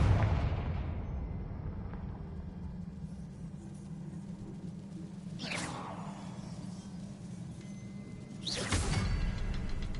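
Two sudden blasts from the Confringo fire spell in Hogwarts Legacy, one near the middle and one near the end, each a sharp whooshing burst over a steady low in-game ambient rumble.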